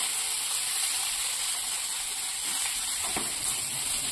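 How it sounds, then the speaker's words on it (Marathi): Sliced onion frying in a pan until lightly golden, a steady broadband sizzle and hiss running evenly throughout with no talking, fairly close. "कांदा हलका सोनेरी होईपर्यंत आपण त्याला भाजून घेऊया।"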